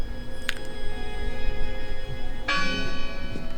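Church bell in the Draugen horror game, two clear metallic strikes ringing out about two seconds apart, each leaving a long shimmering resonance over a low ambient background.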